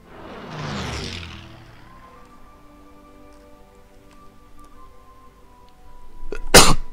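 A single loud sneeze bursts out near the end, following a stretch of quiet background hum and a soft breathy sound at the start.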